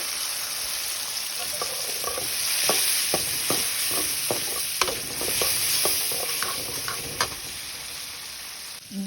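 Turmeric powder stirred into a sizzling pan of lemon rice seasoning, a steady hissing fry with many quick spoon scrapes and taps against the pan, close and fairly loud.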